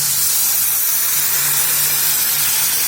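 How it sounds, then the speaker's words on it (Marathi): Hot water hits sizzling masala rice in a pan, producing a loud, even rush of steamy hiss that holds steady from start to finish, close up with no voices. "आता गरम पाणी टाकूया आपण ह्याच्यामध्ये."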